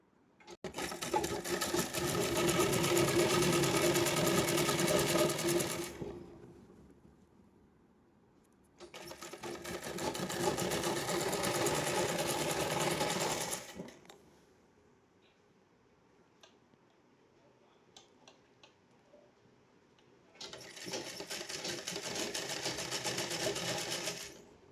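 A sewing machine stitches a plain frock in three long bursts of rapid, steady whirring, close and loud, with quiet pauses between runs where faint handling clicks are heard.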